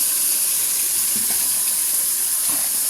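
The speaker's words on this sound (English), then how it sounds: "I'm cutting on the cold water." Cold water runs from a kitchen tap in a steady, loud hiss that holds evenly throughout, with faint clinks underneath.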